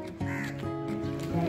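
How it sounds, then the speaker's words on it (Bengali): Birds call harshly while being fed on a morning walk, short caw-like cries repeating over a busy outdoor background, fairly close and moderately loud. "কত পাখি রে খাওয়া"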